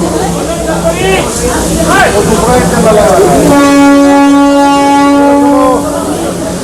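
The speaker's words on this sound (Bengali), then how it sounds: "ট্রেন অলরেডি হর্ন দিচ্ছে" A Darjeeling Himalayan Railway train sounds a loud, sustained horn before departing, a rich harmonic blast lasting a couple of seconds near its end, following station bustle and voices.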